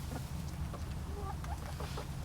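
Chickens cluck in short, soft bursts nearby over a steady background rumble, with a person's voice faintly present.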